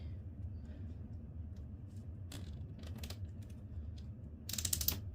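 A cable tie is ratcheted tight, giving quick, faint clicking bursts near the end over a low background hum, close and quiet.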